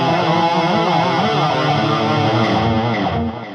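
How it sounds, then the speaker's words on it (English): HeadRush guitar pedal on its default tape echo delay, with a loud distorted guitar and repeating echoes filling the sound, then a quick drop in level near the end as the repeats trail off. "First in line is the tape echo default."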